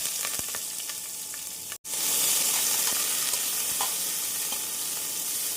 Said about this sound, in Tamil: வெங்காயம் 1 நிமிடம் நன்றாக வதங்கவும்